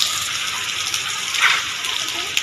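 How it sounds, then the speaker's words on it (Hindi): Heavy rain pouring outside a home, a dense steady hiss of falling water like a gushing stream, continuous and fairly loud throughout. "देख सकते हैं बारिश हो गई"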